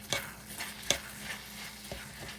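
A spoon stirs washed basmati rice with pigeon peas in a pot, giving a few separate scraping knocks against the pot over a soft, steady sizzle.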